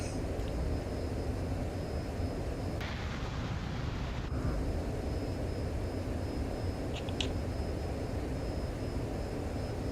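An F-14 Tomcat jet engine in the MSFS 2020 flight simulator roars at full afterburner during a takeoff run, a steady, loud, broadband rush that holds throughout, with no voices.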